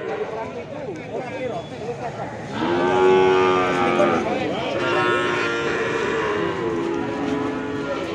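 Cattle at the Imogiri livestock market in Indonesia moo loudly and repeatedly from close by, long droning calls that overlap one another over a busy market din with people talking.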